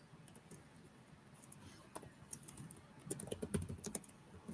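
Quiet keystrokes on a computer keyboard during game development work tap in irregular bursts, sparse at first and then denser clusters of clicks near the end, faint and close with no voices.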